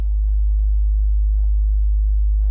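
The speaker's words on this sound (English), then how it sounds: "And then I will just take the sine wave output and patch it to the CGM" A steady, pure sine tone from an analog synthesizer oscillator in a through-zero FM patch holds loud and unchanging for the whole stretch, with no voices.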